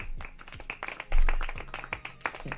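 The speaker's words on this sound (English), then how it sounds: "Clap it up." Scattered audience clapping at a talk, a few separate, uneven hand claps mixed with a low thump and brief vocal sounds, fairly close and moderately loud rather than a full round of applause.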